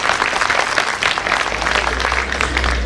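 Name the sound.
audience applause at Gita Jayanti event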